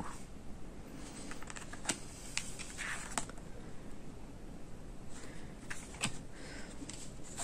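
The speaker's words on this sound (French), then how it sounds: "on entend un peu le clavier des fois et la souris" Faint, irregular clicking and tapping from a computer keyboard and mouse, soft and somewhat distant over a low background hum.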